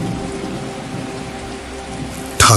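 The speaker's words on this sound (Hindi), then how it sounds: "बाहर मूसलाधार बारिश शुरू हो चुकी थी।" A heavy downpour of rain roars as a steady, dense wash of noise, with a sudden louder burst at the very end.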